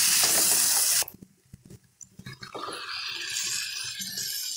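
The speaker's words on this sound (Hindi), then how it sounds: "अब हम इसमें पानी ऐड कर लेते हैं" Water poured into a pan of vegetable curry on the stove, starting as a loud steady sizzle that cuts off abruptly, then faint clinks and splashes before a steady hiss of simmering rises again.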